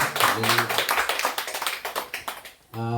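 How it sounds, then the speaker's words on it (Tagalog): A church congregation at a preaching service claps loudly for the Lord in a fairly close, rhythmic burst of hand claps over a sustained musical tone, fading briefly before the music swells again. "Isa pong malakas na palakpak po para sa ating Panginoon."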